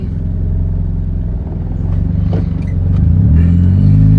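Car driving, a loud, steady engine rumble from inside the cabin that rises slightly in pitch toward the end, with no talk.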